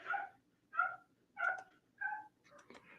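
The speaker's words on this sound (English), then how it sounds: "Do you hear that dog?" A dog barking outdoors near an old well and pump, with four or five separate barks in an uneven rhythm, moderately distant and fairly faint against a quiet background.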